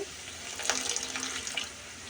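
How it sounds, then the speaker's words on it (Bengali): Water poured into a cooking pan of frying fish masala with red chilli, turmeric and cumin-coriander powder, a brief soft splashing pour near the middle, faint and close, with no talk. "সামান্য একটু পানি দিব"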